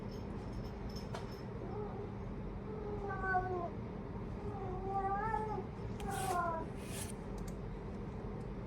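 A house cat meows several times, a soft run of drawn-out cries spaced a second or two apart, heard faintly indoors over a steady room hum.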